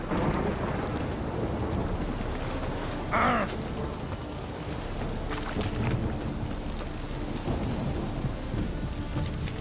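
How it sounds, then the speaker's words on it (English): Steady heavy rain pours through a thunderstorm in The Witcher 3, with low rumbling thunder rolling underneath and a brief sharper crack near the middle, no voices present. "Storm, damn it."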